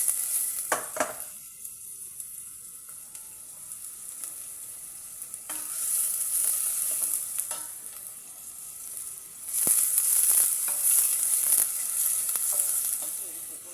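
Onion drops into hot oil in a pan and gives a soft, fairly faint sizzle, with stirring clinks and the hiss swelling in a couple of louder bursts.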